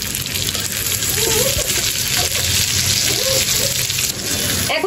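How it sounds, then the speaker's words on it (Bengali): Water is poured into a hot cooking pan of fried onions, tomatoes and green chillies, producing a loud, steady gushing hiss mixed with sizzling, up close. "এখন কিন্তু এখানে আমি অল্প পরিমাণে পানি দিয়ে দিব"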